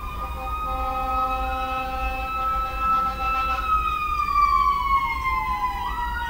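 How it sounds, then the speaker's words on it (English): Fire truck sirens wail steadily, their pitch sliding downward as the trucks pass close by over a continuous low traffic rumble; no one speaks. "And the fire trucks."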